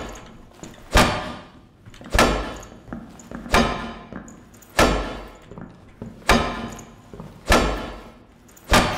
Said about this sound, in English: Let's smash the door.